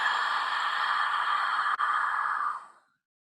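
A steady, breathy rasp drawn in through the throat with the mouth open in a breathing practice, one long inhale at close range that fades out near the end, with no talking.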